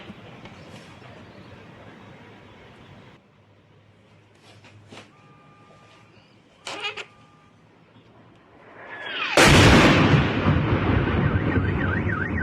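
A strike on an ammunition depot area near Donetsk sets off a sudden heavy blast late on, then a sustained loud roaring rumble after quieter background noise.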